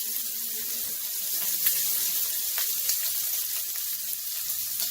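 Shrimp sizzle in a hot pan, a loud continuous hiss with scattered crackles and pops, close up with no talking.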